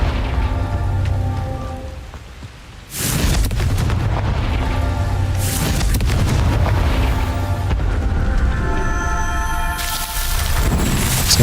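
Confringo blast spells in Hogwarts Legacy, several booming bursts with crackling debris layered over a steady rumbling game soundscape with music-like tones, loud and close.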